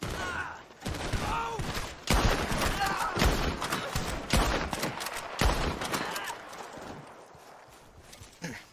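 A burst of gunshots comes as rapid, sharp cracks clustered over several seconds. The firing is moderately loud and gives way to quieter rustling and thumps.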